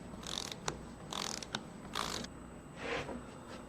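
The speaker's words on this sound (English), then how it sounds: "you just saw us pull it out with 3/4. 3/4 of an inch of thread engagement with an undersized stud" Undersized threaded stud being pulled out in a testing machine, a series of faint mechanical creaks, ratcheting clicks and scraping bursts in irregular short pulses, quiet and close with no talk.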